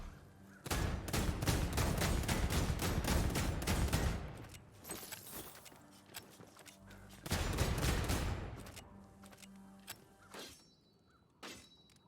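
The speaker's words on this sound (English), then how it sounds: "I love the brace of pistols" Rapid bursts of pistol fire from a brace of pistols in Vermintide 2, two long volleys of sharp cracks with a quieter gap between and a few stray shots trailing off at the end.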